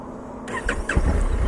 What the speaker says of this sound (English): And let's see if we can actually start the engine.